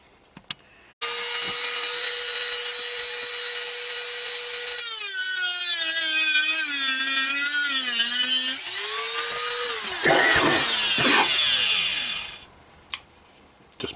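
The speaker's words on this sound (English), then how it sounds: "rough lines where I want to cut, which I'll be doing with a sort of Dremel type tool and a little disc on it" A small Dremel-type rotary tool fitted with a cutting disc bites into wood: a loud whine starts abruptly, then sags and wavers in pitch as the disc loads up. It runs continuously for about eleven seconds before winding down to quiet.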